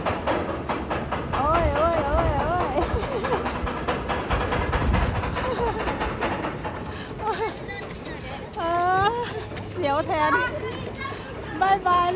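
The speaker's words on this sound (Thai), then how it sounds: "รถไฟตีลังกาอีกอันนะคะ" Looping roller coaster at an amusement park in rural Japan rumbling along its track with a steady roar, while people chatter and shriek throughout, some voices rising in excited screams.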